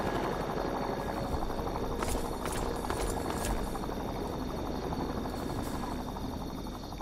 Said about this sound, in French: vous les entendez? Les hélicoptères de l'enclave.